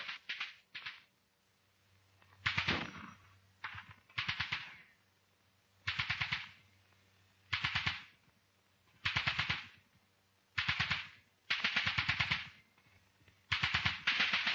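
Rapid gunfire from a covering section during an army platoon attack exercise, delivered in repeated sharp bursts of automatic fire separated by short pauses, with a low rumble under some bursts.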